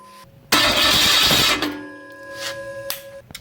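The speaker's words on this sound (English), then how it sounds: "I'll turn the engine over." A 302 engine in a 1966 Ford Bronco under restoration cranks over loudly for about a second with a rapid rhythmic churn, then settles into a fading hum with faint tones.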